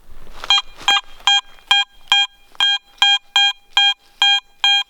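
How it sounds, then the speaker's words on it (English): A metal detector's signal tone repeats, about ten short bursts in steady rhythm, each a bright harmonic pulse, with some faint rustling at the start, at an old cellar hole site. "Listen to this signal, Tim, right under a pile of crap, literally"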